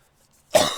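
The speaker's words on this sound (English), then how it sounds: "I still have a cough and I don't know why." A single sharp cough bursts out after a short silence, close and fairly loud, then trails off briefly.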